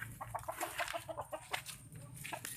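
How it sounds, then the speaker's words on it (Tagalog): Several chickens cluck in short, repeated bursts at close range, busy and overlapping, with faint background rustle and no talk. "Ito manok."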